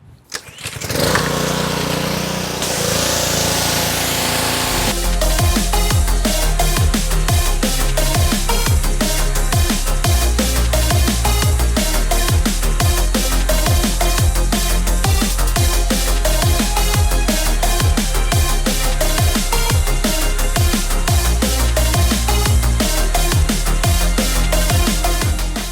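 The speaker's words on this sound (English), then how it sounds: "Let's go pull that pressure washer and get it all rinsed off." A pressure washer used to rinse suds off a Subaru WRX STI sputters to life after a short pull, then its engine runs loud and steady with a fast, even pulsing, close by and with no talking.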